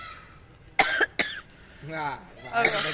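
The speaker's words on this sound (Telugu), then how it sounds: "మా అమ్మకి దగ్గు పట్టుకుంది" Two sharp, close coughs in quick succession, followed by a person talking.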